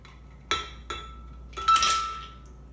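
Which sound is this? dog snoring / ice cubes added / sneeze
ice cubes added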